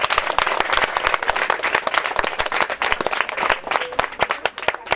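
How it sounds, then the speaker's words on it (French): Schoolchildren clap loudly and energetically at a partnership ceremony. The dense, close applause has sharp individual claps throughout and keeps a steady, vigorous pace. "je demande aussi aux élèves qui sont avec nous d'applaudir et d'applaudir fortement."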